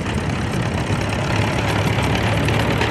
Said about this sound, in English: She is driving a 1933 Farmall F12